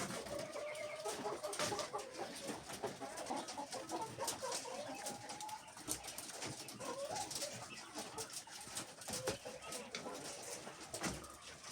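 Several chickens clucking and murmuring close by in a busy yard, with scattered scratching and rustling throughout.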